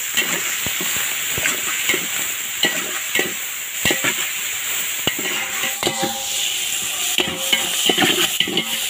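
Onions and tomatoes sizzle in a pan for country chicken biryani, with steady frying hiss broken by repeated clacks and scrapes of a stirring spoon against the metal pot, close and clear.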